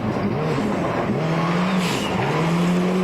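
A Subaru STI rally car sits at the start of a stage in the Rocky Mountain Rally, its engine revving loudly and rising in pitch repeatedly, close by and continuous, with no voices over it.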